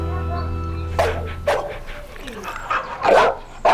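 A pitbull barks several times in short, loud bursts, close by in a shelter, with a few yips between barks and a low steady hum underneath.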